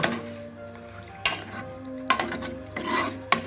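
A spoon scrapes and swirls water around a cleaned masala bowl in a kitchen, giving several sharp clinks against the rim between steady rubbing strokes, close up and alone.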